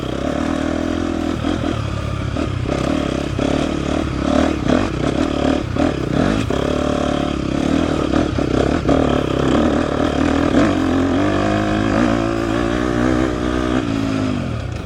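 A KTM 250 XCF dirt bike engine lugs at low revs in third gear on an off-road trail in Texas, a steady close drone with clattering and scraping over rough ground.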